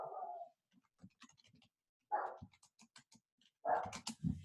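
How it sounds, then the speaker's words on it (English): Dog outside barking in three separate bursts with quiet gaps, each sharp bark followed by softer yelps and rustling, fairly near and distinct. "we have a dog outside."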